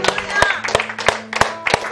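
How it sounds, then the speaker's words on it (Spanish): A church congregation claps in time at a service, a steady run of rhythmic hand claps under a sustained musical tone, with a voice speaking over it. "Dale un aplauso al Señor, iglesia."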